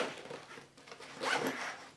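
The zipper on a Javelin 2.0 VSlinger left-shoulder sling backpack is pulled open or closed in two quick, close raspy strokes, with no talking.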